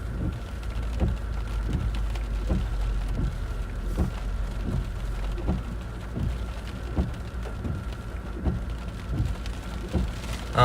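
Steady heavy rain falls throughout a severe thunderstorm near Avila, Indiana, with repeated low rumbles of thunder pulsing every second or so beneath the downpour, fairly loud and continuous.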